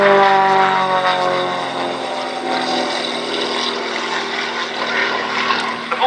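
An Extra 300S aerobatic aircraft's propeller engine during an airshow display, a loud sustained buzzing drone with shifting pitch as the plane manoeuvres, steady throughout with no talk.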